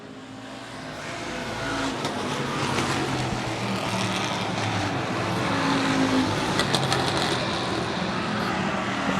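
Street-stock race cars roar around a short oval track in a steady, continuous engine drone, moderately distant and sustained, with no voices over it.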